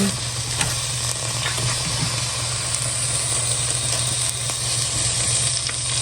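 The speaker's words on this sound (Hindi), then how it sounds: "इसमें हम प्याज डाल देते हैं। ये देखिए ये प्याज ऐड कर दिए हैं" Onions frying in oil on a stovetop for chicken changezi, a steady broadband sizzle running evenly throughout with a low hum beneath and no talking.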